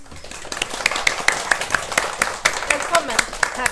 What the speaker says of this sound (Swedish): Så då hälsar vi Lena Borg med en applåd tycker jag.